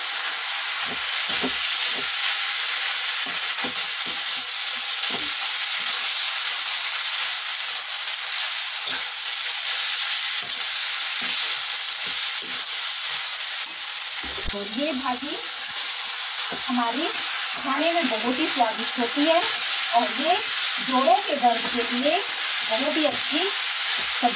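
Mutton sizzles steadily in a pan with mustard flowers, a loud continuous frying hiss close by, as a spoon stirs and scrapes through the mix in repeated strokes, growing busier toward the end.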